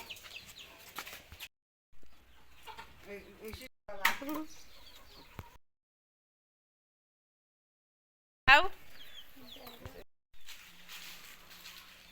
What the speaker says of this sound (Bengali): 35টা মুরগি।